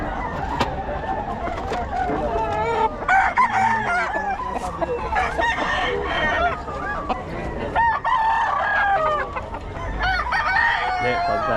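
A Golden Boy rooster crows repeatedly at a poultry market, its loud calls rising over background chatter, other fowl clucking and occasional vehicle noise.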